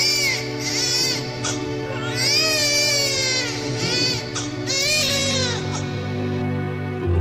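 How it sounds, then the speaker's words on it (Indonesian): An infant cries loudly and continuously, rising wails with short breaths between them, close and alone without other voices. "suara tangis Ismail semakin kencang"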